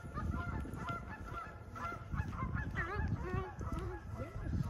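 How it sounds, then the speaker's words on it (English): A flock of geese near a lake in Pennsylvania honks repeatedly at a distance, their overlapping nasal calls rising and falling over steady outdoor background noise. "We hear the geese."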